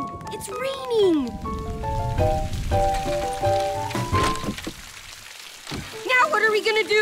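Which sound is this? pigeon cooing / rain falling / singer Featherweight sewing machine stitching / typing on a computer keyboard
rain falling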